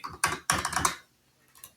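A handheld calculator's buttons click close and loud in two quick rattling bursts of rapid presses, followed by a near-silent pause and a few faint taps.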